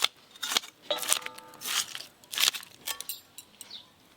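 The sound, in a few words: scaling a golden fish with a knife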